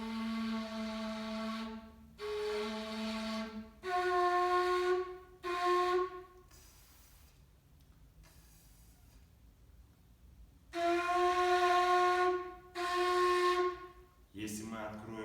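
A kurai, the Bashkir end-blown flute, plays in a series of breathy sustained notes with rich overtones, separated by pauses and short gaps, close and fairly loud.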